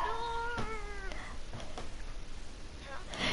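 A cat gives a couple of drawn-out, close meows at the start, followed by steady background noise and a few faint clicks.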